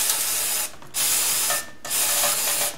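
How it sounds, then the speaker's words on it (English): Carb cleaner sprayed from an aerosol can to rinse out a part, heard as three close, steady hissing bursts separated by short pauses. "A little carb cleaner."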